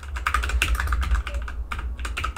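Quick typing on a computer keyboard while writing code in a WordPress dashboard, a steady patter of close, crisp key clicks with short pauses between bursts.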